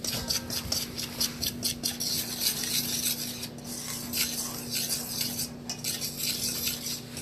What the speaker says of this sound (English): Now stir it around, because you definitely want to get that stirred around